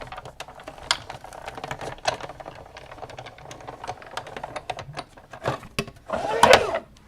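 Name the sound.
Big Shot die-cutting machine being cranked through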